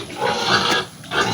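Farm pigs grunt and squeal loudly at close range as they are being fed, a brief burst of overlapping noisy calls.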